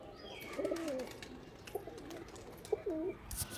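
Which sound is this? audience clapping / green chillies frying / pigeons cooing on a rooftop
pigeons cooing on a rooftop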